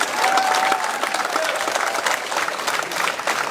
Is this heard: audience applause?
yes